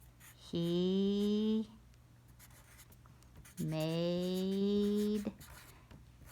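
Handwriting on a board, apparently with a marker: two drawn-out squeaky strokes, each about a second or more long, with a pause between them and a few spoken words nearby.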